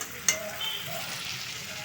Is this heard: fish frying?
yes